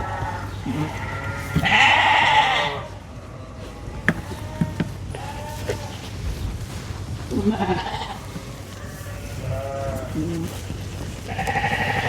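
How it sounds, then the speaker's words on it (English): Lambs in a pen bleat several times, some calls loud and close, others softer, with brief knocks and rustling in between and a low steady hum underneath; no clear speech. "This is the fascination a human and a dog create if you sit in a pen of lambs."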